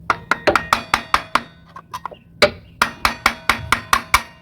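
A screw is tapped against a sleeve to knock it out of an old TVS Star City scooter, giving about fifteen sharp, close metallic knocks at a steady rhythm with a brief pause in the middle.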